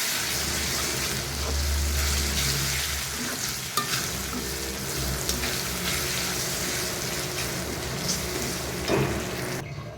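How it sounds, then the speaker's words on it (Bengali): Water is poured into frying ginger paste and spice masala in oil while cooking koi fish, giving a loud close sizzle with repeated stirring and splashing that settles into a steadier bubbling fry. "তো আমি একটু পানি দিয়ে দিলাম যেমন মশলাটা যেন না পুড়ে যায়"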